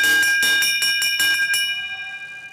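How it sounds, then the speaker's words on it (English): Bell rung repeatedly to signal the final lap of a speed skating championship race, about eight quick clangs in a steady rhythm with a lingering ringing decay, loud and close. "Bell lap is going to bring us around."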